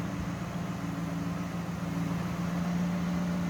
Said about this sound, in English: As you can see and hear, smooth running V8.